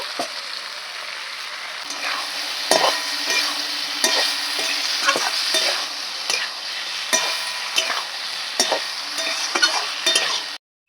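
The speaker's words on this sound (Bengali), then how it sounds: "মশলাটা একটু ভালো করে কষিয়ে নেব ঘষিয়ে রাখা টমেটো" Spice paste and grated tomato sizzle steadily in a pan while a spatula scrapes and stirs in regular strokes, close and fairly loud, before the sound cuts off abruptly at the end.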